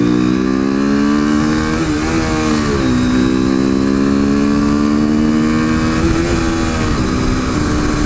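A modded 2015 KTM RC 390 single-cylinder motorcycle drones loudly and continuously while ridden, its engine pitch dipping and rising with throttle changes against wind noise; no talk.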